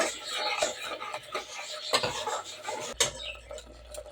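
A spoon stirs liver gravy in a metal pan, scraping and clinking against the sides in irregular strokes, close and moderately loud.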